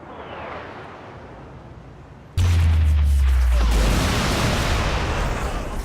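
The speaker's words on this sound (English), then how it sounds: "we could call in an airstrike" Airstrike in Saints Row: The Third: after quiet ambience, a sudden massive blast erupts with a deep low rumble, followed by sustained loud roaring explosion noise and debris that fills the rest of the scene.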